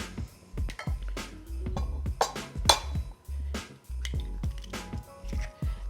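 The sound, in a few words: cracking four eggs into a bowl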